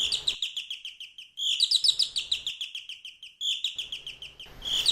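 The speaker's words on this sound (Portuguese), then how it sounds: "Em poucos minutos, a canção dos pássaros já podia ser ouvida" Birds sing in close, bright bursts of rapid chirping, three or four phrases separated by short silent gaps.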